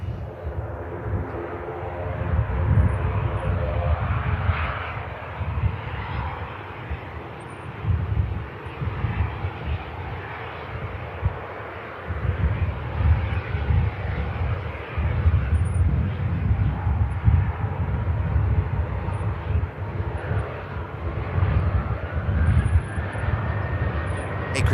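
KLM airliner rolling off the runway at Manchester Airport, a deep rumbling jet engine roar that surges and dips, with a rising whine near the end, fairly close and without speech.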